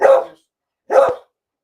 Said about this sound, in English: You bark.